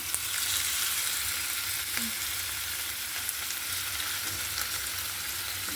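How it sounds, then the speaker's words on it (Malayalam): Steady, close sizzling and crackling of anchovies frying in hot oil in Thiruvananthapuram, continuous throughout with no voices. "നമ്മളിവിടെ ട്രിവാൻഡ്രത്ത് മീൻ വറുക്കുന്നു പൊരിക്കുന്നു"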